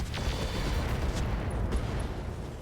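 Mech weapons fire at a Saladin vehicle in the video game RogueTech, with a few dull booming blasts and crackling impacts over a continuous low rumble, no voices.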